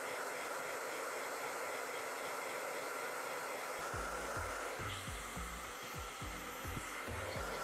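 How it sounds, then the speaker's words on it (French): A hair dryer blows steadily at close range to dry a piece for laser engraving, a continuous airy whoosh with a low rumble that shifts as the airflow moves partway through. "eh ben on a pris le sèche-cheveux."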